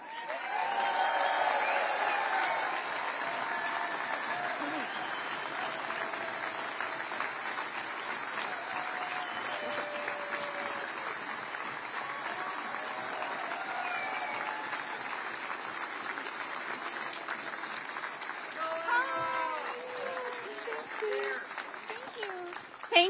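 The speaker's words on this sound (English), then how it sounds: "Please give a warm round of applause for Anna Poilievre." Sustained applause from a political rally audience in Penticton, British Columbia, a dense, steady clapping wash lasting over twenty seconds with cheers and a voice rising near the end.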